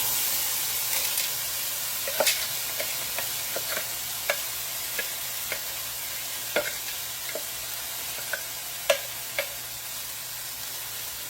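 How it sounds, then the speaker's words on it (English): Four cups of frozen corn saute in a pan, giving a steady, moderate sizzling hiss broken by scattered sharp pops and light stirring clicks, with no talking. "I'm going to go ahead and add in 4 cups of corn. I'm just using a frozen corn."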